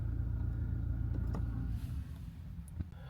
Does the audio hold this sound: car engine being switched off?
yes